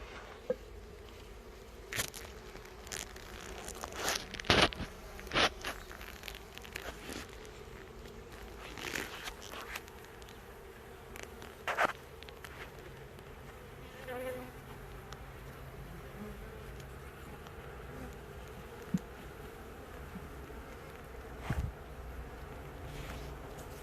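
Honey bees from an opened, brood-filled hive box make a steady low buzz, overlaid with close handling bumps, knocks and scrapes of the wooden hive parts.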